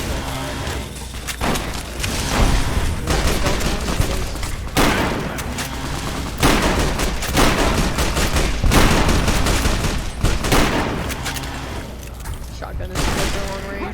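Gunfire in Fallout: New Vegas, including a shotgun, arrives in dense, loud bursts of blasts and booms, almost continuous for the whole stretch with brief lulls, while a person talks over it.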